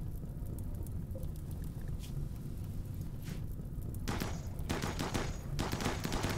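Ammunition stockpile cooking off in the video game RimWorld, heard as bursts of crackling, popping blasts that grow denser toward the end over a steady low rumble.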